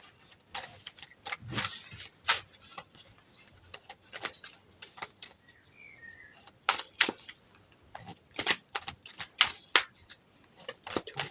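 Tarot cards being shuffled and handled in a sequence of crisp, irregular riffles and snaps that come in quick bursts, close and moderately loud, with brief pauses between them and no voices.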